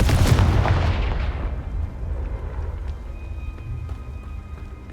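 The Confringo blast spell in Hogwarts Legacy lands as one loud booming explosion that rumbles and slowly fades over several seconds, with a faint high whine lingering at the end.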